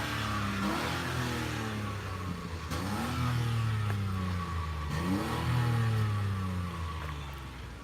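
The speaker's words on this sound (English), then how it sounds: "And it's quite throaty, isn't it? It's a little 3-cylinder." The little three-cylinder engine of a Honda Insight ZE1 is revved in three distinct throaty bursts, each pitch sweep rising and then falling back to idle, close by with no speech.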